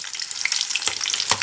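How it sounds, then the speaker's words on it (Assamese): Onion, ginger and green chili fry together in a hot pan, giving a loud, continuous sizzle with a couple of brief stirring scrapes and no voices. "একেলগে মই ভাজিছোঁ।"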